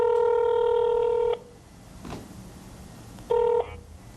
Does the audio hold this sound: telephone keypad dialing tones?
yes